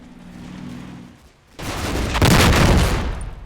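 Mortar and tank shell explosions falling on a village in the WWII game Combat Mission Final Blitzkrieg: a low rumble gives way to a sudden loud blast and a sustained roaring crash of impacts.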